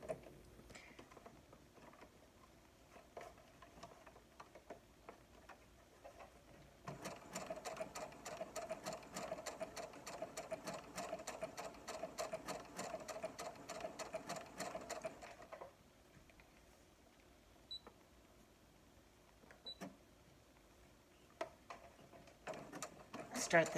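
A Brother SE400 sewing machine runs an overcasting stitch with the overcasting foot. It gives a steady, rapid mechanical whirring and ticking for about eight seconds in the middle of the clip, with quieter clicks before and after and faint speech in places.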